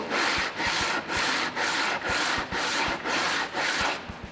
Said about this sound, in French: on commence à poncer d'une façon